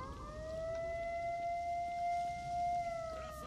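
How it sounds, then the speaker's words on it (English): A loud alarm siren wails in S.T.A.L.K.E.R.: Shadow of Chernobyl, a steady sustained tone that holds level for about three seconds over faint background noise before cutting off. "based on the loud ass alarm siren"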